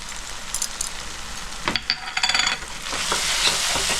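Chicken gizzards frying with turmeric, cumin, coriander and Kashmiri chili powder, heard as a close sizzle with brisk scraping and clinking stirs in the middle before the hiss settles into a steady, louder fry.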